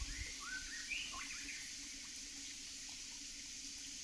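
A clear stream of water runs through a Konkan forest, a faint, steady trickling wash, with a few soft bird chirps near the start.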